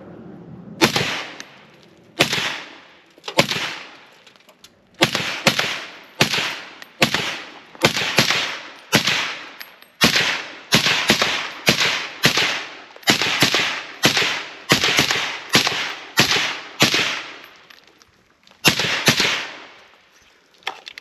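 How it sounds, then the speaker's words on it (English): Suppressed Ruger SFAR 16-inch rifle firing 25 rounds in quick successive shots, each a sharp, loud muffled crack with a short decay, spaced roughly every half to one second with brief pauses, no talking. "Looky there, it ran through 25 rounds."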